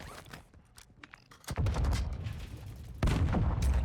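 Gunfire in Call of Duty DMZ shooting through walls, with loud sharp bursts of shots and booms, an early cluster of lighter cracks followed by heavy sustained blasts from mid-clip onward.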